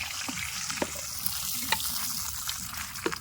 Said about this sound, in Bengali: এই যে এটা একটু ভালো করে ভাজি